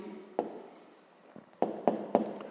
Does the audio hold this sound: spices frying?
no